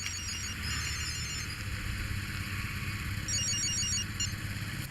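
A telephone ringtone plays as a bright electronic beeping pattern in two short bursts, one at the start and one near the end, over a low, steady engine-like hum.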